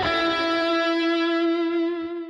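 Electric guitar through a tube screamer into a Quad Cortex capture of a Kustom practice amp: one sustained, distorted chord ringing out loud and alone, then fading at the end.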